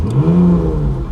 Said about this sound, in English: So let's go ahead and fire it up.